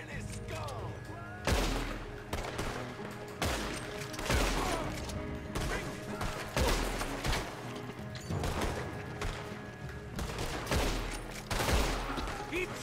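Repeated gunfire from a shootout in the video game Red Dead Redemption 2, with loud shots and volleys bursting every second or two over a steady game backdrop, while voices shout in between.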